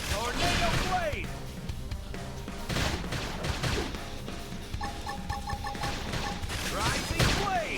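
Gunfire bursts out in scattered volleys amid battle clatter in Xenoblade Chronicles X combat, with sharp impacts and game effects layered over a busy, loud mix.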